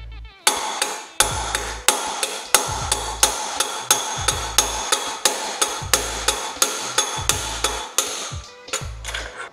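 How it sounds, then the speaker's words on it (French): A mallet strikes a bearing extractor again and again, about a dozen and a half sharp, loud metallic blows in a steady rhythm, each ringing briefly before the next. "Pour extraire, j'utilise un maillet."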